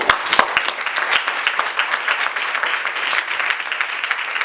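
A church congregation breaks into applause, steady dense clapping filling the whole stretch at close range, with a few sharper individual claps standing out near the start.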